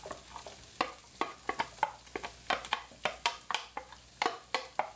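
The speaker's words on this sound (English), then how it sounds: "We're going to fry them up for a couple of minutes." Onions frying in melted butter in a pan, with a quiet background sizzle broken by repeated sharp scraping and clacking strokes of a utensil stirring against the pan, close and fairly rhythmic.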